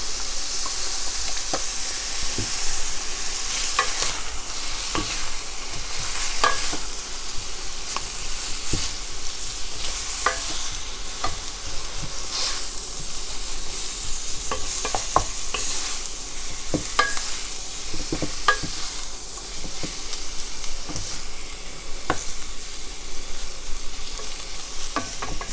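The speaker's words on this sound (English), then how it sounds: "The hot pepper flakes, gochugaru, are also very good to get started by toasting a little bit." Gochugaru hot pepper flakes toast in a pot, giving a soft steady sizzle broken by scraping and clicking strokes of a stirring utensil, close and unaccompanied by voices.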